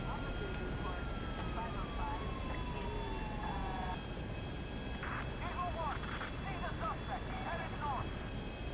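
Airplane engine drone in the video game GTA 5, a steady hum running throughout with sirens and whistling tones sweeping over it and chirping game effects later, moderately loud.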